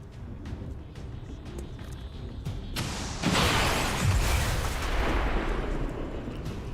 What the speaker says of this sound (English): If I just shoot this rocket back here, I bet I'll just blow something up.